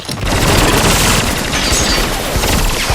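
Sustained automatic gunfire as a squad of soldiers shoots at Jason in the film Jason X, loud and dense for several seconds with booming bursts and no pauses, cutting off abruptly.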